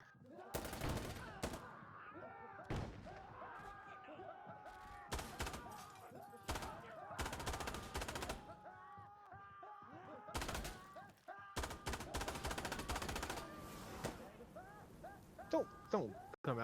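Gunfire in Insurgency Sandstorm, with repeated bursts and single shots spread across the clip, some sharp and close, others more distant, and a voice speaking between them.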